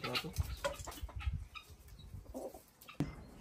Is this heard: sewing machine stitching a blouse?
no